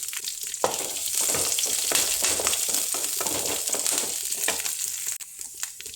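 Curry leaves crackle and fry in hot oil for a mutton sukka, a loud, dense sizzle with bursts of spattering that holds steady throughout, easing slightly near the end.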